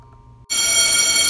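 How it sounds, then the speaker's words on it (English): A school bell suddenly starts ringing after a quiet moment, a loud, steady electric metallic trill that continues without pause to the end. "that's the bell"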